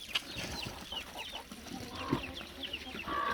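Chicks on a farm where hens, turkeys and ducks are kept give faint, high peeps, with a few clucks mixed into a soft outdoor background.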